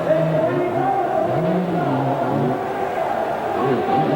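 Three-wheeler motorcycles racing on a track at a 1986 USHRA event in Philadelphia, with engines revving and buzzing continuously at close range, pitch rising and falling as the riders accelerate.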